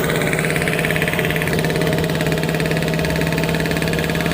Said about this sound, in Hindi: अगर थर्ड लगा सकते हो तो रेस बढ़ाओ, 30 का बढ़ाओ, रेस करो, करो, बढ़ाओ रेस 30 का।